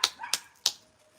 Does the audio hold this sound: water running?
no